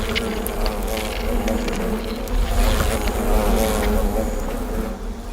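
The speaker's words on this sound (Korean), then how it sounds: "말벌 중에서도 최대 개체수를 자랑하는 털보 말벌." A swarm of bearded hornets, a wasp species whose nests can hold up to 5,000 insects, makes a dense, steady buzz that stays loud and close throughout, with individual wingbeats weaving in and out.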